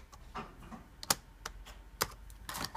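Lenovo ThinkPad T400 laptop keyboard being slid and fitted into place, a few faint, scattered plastic clicks and taps close to the microphone in a quiet room.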